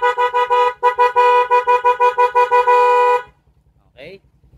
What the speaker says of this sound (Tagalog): Kompleto na yan, then busina